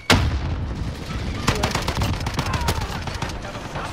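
Rapid FAL rifle shots ring out in a Modern Warfare firefight, a sharp burst of closely spaced cracks with loud, up-close reports over a dense background of battle noise.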